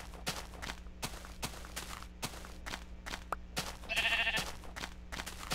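A sheep in a video game gives a single clear bleat over steady rhythmic footsteps on open ground, with a low ambient hum beneath.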